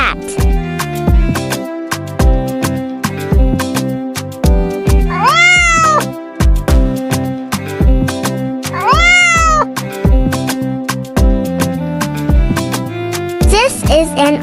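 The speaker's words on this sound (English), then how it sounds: "This is a cat." A cat meows twice in clear rising-falling cries. Both calls sit over a loud, rhythmic children's music backing track that runs the whole time.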